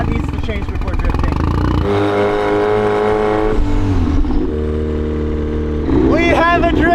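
Engine of a Mazda Miata drift car with no power steering, running and revving loud and close in steady harmonic tones that shift pitch as gears change, with people talking over it.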